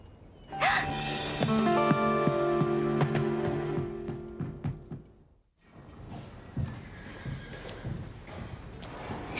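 A loud, close horse whinny rising and trailing off, followed by quieter stamping and clip-clop hoof movement after a brief pause.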